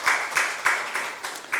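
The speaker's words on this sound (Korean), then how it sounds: "박수로 함께 격려를 축복하겠습니다" Short bursts of hand clapping from a church seminar audience, several distinct claps in an uneven rhythm, fairly faint and brief, with no talk over them.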